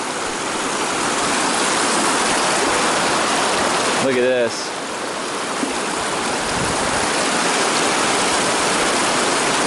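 Mountain stream water flowing steadily near Forester Pass on the Pacific Crest Trail, a broad continuous rushing wash close by, with a brief spoken remark partway through.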